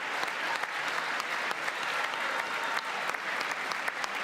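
A crowd claps continuously, a fairly quiet but dense wash of many hands with occasional sharper individual claps popping out, and no voices on top.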